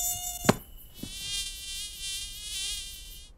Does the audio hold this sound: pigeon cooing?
no